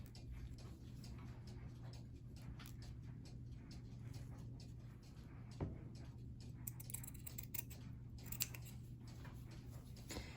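Scissors snip through paper traced with bunny shapes, faint small clicks and cuts scattered over a low steady hum, with a couple of slightly louder snips near the end.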